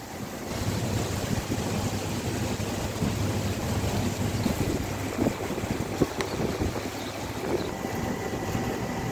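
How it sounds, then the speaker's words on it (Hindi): Heavy afternoon rain pours down in Jhansi, a steady, dense hiss that stays even and loud throughout with no voices. "काफ़ी तेज़ बारिश है।"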